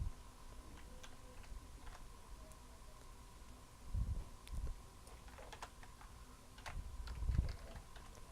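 Keys on a computer keyboard tapped in short scattered clusters, faint and close against a steady low hum, with two louder bursts of clicks.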